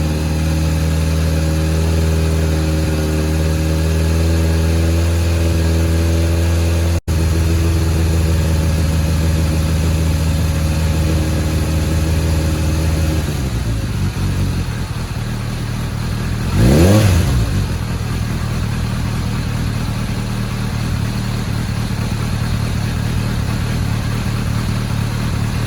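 A 2000 Kawasaki ZRX1100 motorcycle idling steadily after start-up, a loud, close, even engine drone that shifts character midway with a brief swell in revs, no voices.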